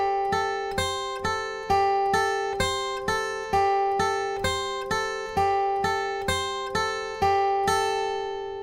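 Plucked acoustic guitar with a capo repeats a four-note pattern from a song intro, played cleanly and alone at a steady rhythm. Each note rings and decays before the next pluck, and the phrase cycles several times.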